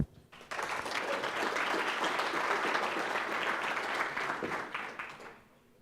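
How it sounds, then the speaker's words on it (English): A conference audience at an Elixir programming event gives a round of applause for a speaker, a full burst of clapping that swells quickly, holds for about five seconds, then fades out. "please give me a round of applause for Ben Cates"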